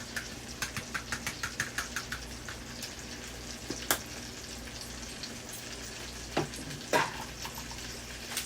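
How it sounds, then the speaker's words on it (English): Chicken pieces frying in margarine in a pan for a casserole, giving a steady low sizzle with a few brief clicks and taps from utensils. No one talks. "Seasoning the backside of the chicken that is frying in margarine."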